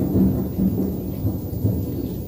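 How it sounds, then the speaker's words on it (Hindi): A loud thunderstorm with heavy rain, low rolling thunder rumbling continuously and swelling in a few bursts, close and dominant with no talk. "बिजली बहुत जोर से कड़क रही है"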